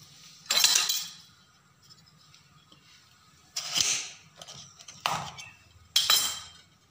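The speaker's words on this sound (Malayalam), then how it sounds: "ഇത് ചെറിയൊരു പപ്പായാണ്. ഞാൻ ഇതിൻ്റെ പകുതിയാണ് എടുക്കുന്നുള്ളൂ. ഇത് പകുതി ഒന്ന് നമുക്ക് മുറിച്ചെടുക്കാം." A knife cuts a small papaya in half, giving four separate crisp, clinking chops against a hard surface, two close together near the end, with quiet pauses between and no talk.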